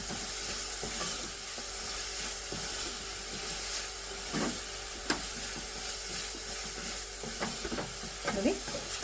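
Melted jaggery with dry fruits and poppy seeds being stirred in a pan for modak stuffing, giving a soft continuous sizzle with scattered scraping strokes and a few louder clinks, close by.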